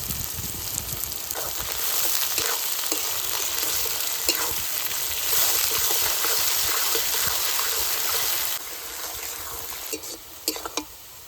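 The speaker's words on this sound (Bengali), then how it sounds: "পেঁয়াজ একটু হালকা লাল লাল করে ভেজে নিয়েছি" Sliced onions with a spoonful of salt sizzling steadily in a hot pan as they turn light red, a dense continuous fry with occasional stirring scrapes and a drop in level near the end, no talking.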